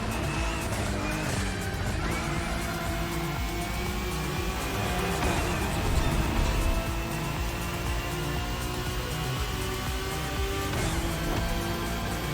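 An Acura NSX GT3 race car engine from The Crew Motorfest roars continuously at high revs, its tone rising and falling with gear changes, loud and constant with no talking.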